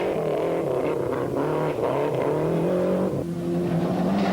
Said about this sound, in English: Andreas Suloftas in his Mitsubishi Galant, another Group A car